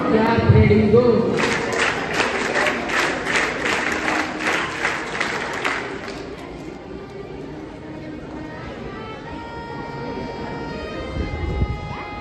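A school investiture ceremony crowd performing a scout clap, a run of sharp, evenly spaced claps in unison for several seconds, then fading into a softer murmur of the hall with a faint voice.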